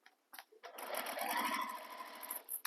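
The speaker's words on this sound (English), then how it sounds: "start sewing in this corner" A sewing machine stitching a corner seam on a tote bag runs in short bursts and then a sustained whirring run, close and fairly quiet, with clicks between the stitching passes.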